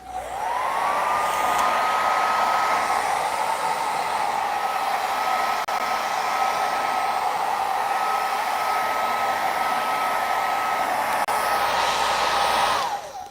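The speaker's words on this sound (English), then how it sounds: "I'm gonna just zap it real quick with the hair dryer." A hair dryer on its cold setting whirs up, runs in a loud, steady blowing hum for several seconds while drying paint on canvas, then winds down at the end.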